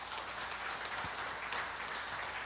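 Church congregation applauding during a sermon, a steady, dense wash of many hands clapping at low level, continuous and fairly distant.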